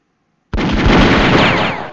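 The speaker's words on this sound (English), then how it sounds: "Make a room for the artillery so they can shoot all of them." Artillery fire in the strategy video game European War 6: a sudden loud burst starts about halfway in and holds as a dense, sustained blast of cannon fire until the end.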